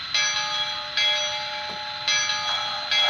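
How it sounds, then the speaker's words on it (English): A small model train bell rings continuously with a bright, clanging tone, pulsing in repeated strokes, close and fairly loud. "let's check out the bell while we have the chance."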